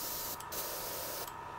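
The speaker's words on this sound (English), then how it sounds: "I spray it out" A Badger airbrush spraying out rinse water, a continuous close hiss of air and mist with two brief bursts of stronger spray.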